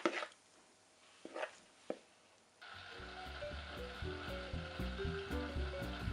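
Muffin batter mixed with lemon and baking powder fizzes from a chemical reaction, a faint, steady crackling hiss that starts after a few soft knocks and continues alone and close.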